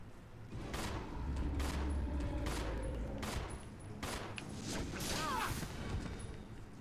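Pistol gunfire in Resident Evil Zero: a rapid string of about five or six sharp shots, spaced under a second apart, loud and close over a dense game backdrop.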